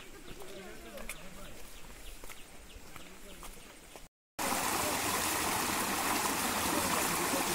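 A shallow forest creek runs low before the monsoon on a hill trek in Bandarban. Its steady trickle is faint at first under footsteps and voices, then turns into a loud, close, continuous rush after a brief gap.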